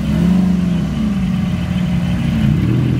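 A Porsche 993 GT3 rolls into a Porsche show at the Beaulieu National Motor Museum, its flat-six engine giving a loud, close, throaty drone that rises slightly in pitch as it passes, with no talking.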